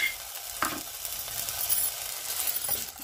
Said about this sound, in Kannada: ನಾವೀಗ ಆಲೂಗಡ್ಡೆನ ಹುರ್ಕೋಬೇಕಾಗುತ್ತೆ